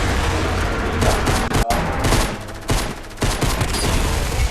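Rapid bursts of gunfire from weapons in the video game Fortnite, fired during a zombie fight in a dense, continuous barrage with a few short breaks, loud and close.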